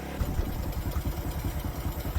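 A motorcycle engine idles after being flooded with water, a steady low rhythmic putter with light mechanical clatter, close by with no voices.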